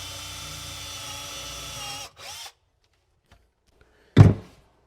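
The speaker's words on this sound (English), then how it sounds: "We'll drill a little hole and then we can knock this in." A power drill with an 8mm bit whirs steadily for about two seconds boring a small hole, stops, gives a short second burst, then a sharp knock sounds after a pause.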